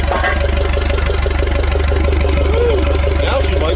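An old Perkins diesel engine on a forklift idles steadily, a loud, even low-pitched throb with a knocking pulse throughout, no voices.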